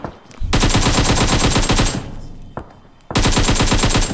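Sustained automatic gunfire in a shooter video game, two long loud rapid bursts separated by a brief lull with scattered lighter shots.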